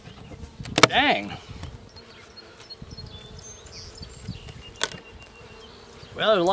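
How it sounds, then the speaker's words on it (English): A low, steady drone of honey bees buzzing in a hive hums in the background, with a couple of louder, nearby sweeps as individual bees pass close. "Well, there's a lot of bees up in there."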